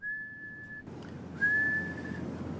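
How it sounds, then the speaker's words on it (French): A person whistles two long, steady high notes to coax hermit crabs from their shells, separated by a short pause, the second slightly rising, over a low background hum. "Et donc, il faut siffler pour les faire sortir."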